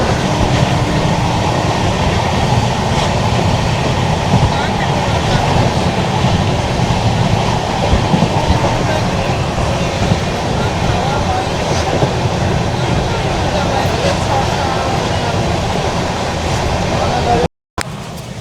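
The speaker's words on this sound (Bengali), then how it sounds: "আমাদের ট্রেন এখন ঢুকে যাচ্ছে শিলিগুড়ি জংশন" Sikkim Mahananda Express runs along the track near Siliguri Junction, a loud continuous rumble with clickety-clack from the wheels throughout, heard from inside the train.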